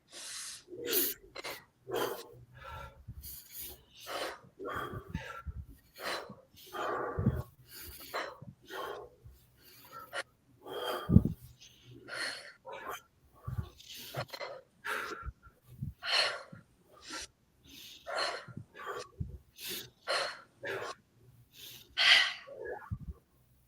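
Bhastrika breathwork, with a group forcefully breathing in and out through the nose in fast, sharp, rhythmic puffs, about ten strong cycles heard close and loud in a quiet room.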